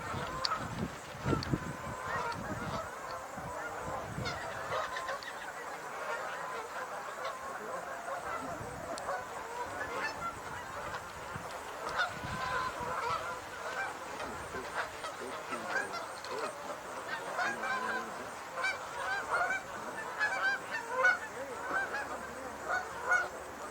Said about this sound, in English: More geese coming in